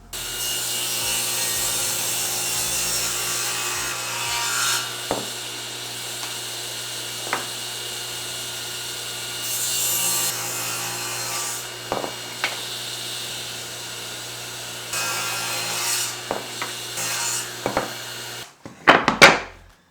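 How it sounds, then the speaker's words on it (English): A saw resawing 2x4 boards down the middle, a continuous close rasping cut with brief knocks and bumps as the wood is handled, ending in a louder clatter. "resaw all these pieces right down the middle into 2 pieces that we can glue up for the aprons"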